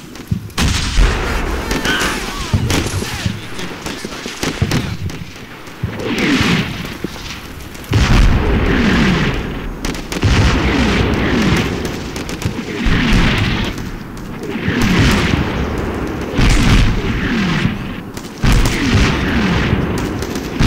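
An artillery barrage fires for effect in the Combat Mission: Shock Force war game, a loud, sustained run of heavy booms and explosions rolling one after another with rumbling tails, barely a pause between impacts.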